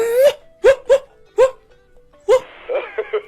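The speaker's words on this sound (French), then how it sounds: "Demande-lui d'aboyer." A pet dog named Fidèle barks in a series of sharp, close yaps with short pauses between them, ending in a quicker cluster of softer whimpering yips.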